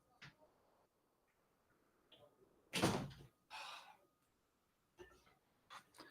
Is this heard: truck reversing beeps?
no